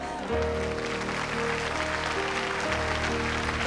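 A church congregation claps together over sustained keyboard or organ music, a dense steady wash of applause lasting throughout at moderate loudness.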